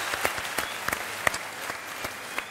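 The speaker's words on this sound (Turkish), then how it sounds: "Alkışlar Nevşehir'den gelen kardeşim." A studio audience applauds a guest from Nevşehir, scattered individual claps standing out over a continuous patter of crowd clapping.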